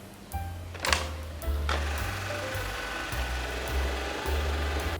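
An Ecovacs Deebot T30S robot vacuum cleans with a steady low motor hum and brush whir, joined by a few brief higher tones and clicks; no talk is heard.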